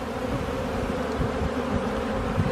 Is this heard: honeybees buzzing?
yes